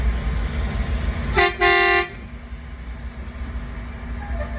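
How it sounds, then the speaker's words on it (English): A loud air horn sounds twice in quick succession, a brief toot then a longer blast, over an idling engine drone. "I was hoping that if I honked the air horn at them,"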